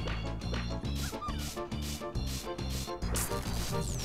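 A robot dog enemy in Space Station Silicon Valley barks in rapid, rhythmic yaps over driving game music, loud and close, repeating throughout.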